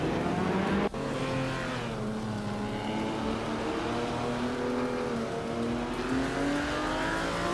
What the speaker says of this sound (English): Leading the pack is Wild Cavanone in a classic 1956 Aston Martin DBR